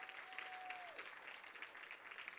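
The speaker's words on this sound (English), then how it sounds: "give them a round of applause" A conference crowd at a 2016 Hampton brand team meeting applauds steadily, dense clapping that stays even and fills the room throughout, with a faint tone and a little murmur underneath.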